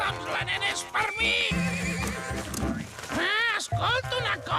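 A horse whinnies and neighs with rising, wavering calls amid a busy animated cartoon scene, with voices talking and music over it.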